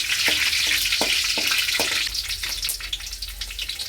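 Green chillies sizzle and crackle loudly in hot oil in a pan for a Tamil fish curry, with a few sharp spatula taps early on and a steady frying hiss throughout.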